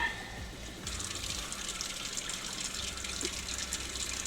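Water runs steadily from an RV tap through newly installed filters, a continuous broadband rush that starts up sharply and carries on alone without any talk.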